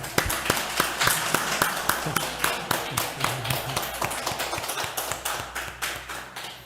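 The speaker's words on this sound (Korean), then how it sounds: "우리 강동희 형제 오랜만에 예배 나왔는데 우리 박수로 한번 환영하겠습니다." A church congregation claps in unison to welcome a returning member at a Sunday service, a loud, steady rhythmic beat of hand claps that slows slightly and thins toward the end.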